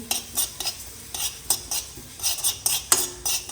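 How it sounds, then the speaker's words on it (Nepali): White sesame seeds roasting dry in a pan for pickle, scraped and stirred with a utensil in a quick irregular series of close, crisp scratches and light sizzles, with no talk. "यो चाहिँ हो सेतो तिल बुट्दैछु मैले त साथीहरू अचारको लागि"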